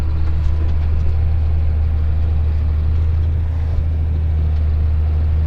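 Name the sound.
payloader tractor engine in muddy farm yard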